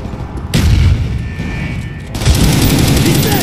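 A grenade blast booms in Call of Duty: Black Ops, followed by heavy rolling gunfire and rumbling impacts that stay loud and close to the end.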